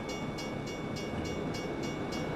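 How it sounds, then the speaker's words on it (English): Slow train rolling past in American Truck Simulator, a steady low rumble with evenly spaced rhythmic clacks repeating about every third of a second, continuous and moderately loud with no voices. "They must have some mules pulling that train."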